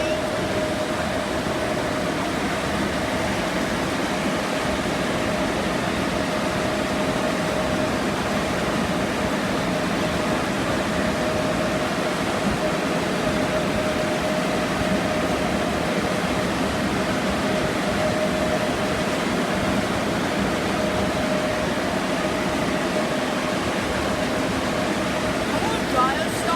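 A car wash air dryer blows in a constant loud rushing roar with an even hum beneath it, running unbroken throughout while someone speaks over the noise.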